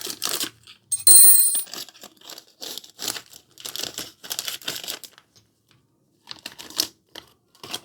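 Plastic is crinkled while wrapping items, heard as repeated close crackling bursts in short irregular clusters separated by brief silences, with one sharper rustle near the start and no talk.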